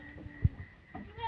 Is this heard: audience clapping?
no